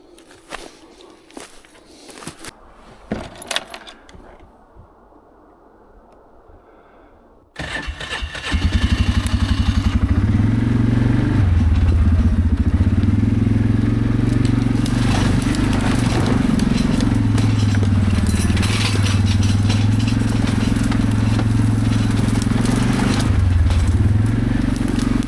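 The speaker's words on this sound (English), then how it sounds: "let's drive there and see what happens" An ATV engine starts after quiet forest ambience with footsteps, then roars loud and steady as the machine drives through spring woodland on a timber-hauling trip, its revs rising and dipping as it moves along.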